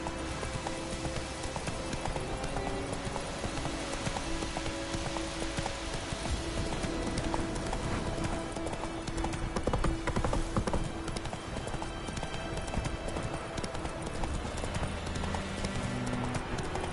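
Steady clip-clop of the horse Roach's hooves in The Witcher 3, continuous over ambient game sound with a faint rain-like patter, at a moderate level and fairly close.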